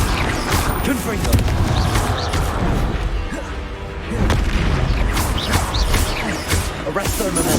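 Spell blasts in the Hogwarts Legacy video game, with the Confringo fire spell among them: dense, continuous booming impacts and crashes that stay loud throughout, with brief shouted voices mixed in.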